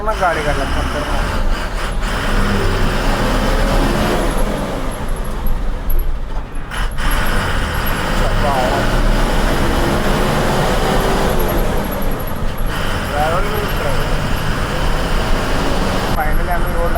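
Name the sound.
traffic jam on a road, vehicles passing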